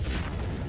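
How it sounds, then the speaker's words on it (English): A TV blown apart by explosives, a loud sustained booming blast with a broad roar that fills the whole short moment without pause. "demonstrating a high-speed camera by blowing up a TV"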